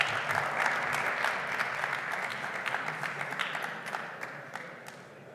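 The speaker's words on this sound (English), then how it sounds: "So nice round of applause, guys." An audience at a crypto conference applauds as speakers come to the stage, a dense burst of clapping that gradually thins and fades over several seconds.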